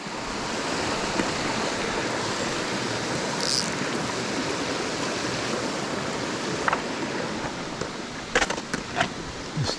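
Mountain stream waterfall in Pennsylvania brook trout country, a steady broadband rush of falling and flowing water that fills the whole clip at an even, close level, with a few brief splashes or clicks near the end.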